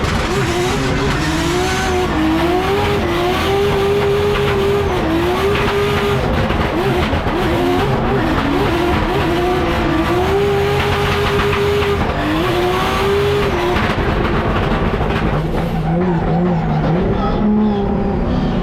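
Drift cars at a French Drift Championship round on a mountain course, engines wailing loud and close with rising and falling revs, tires squealing continuously, the roar easing slightly toward the end.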